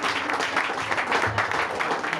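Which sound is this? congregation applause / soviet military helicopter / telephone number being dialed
congregation applause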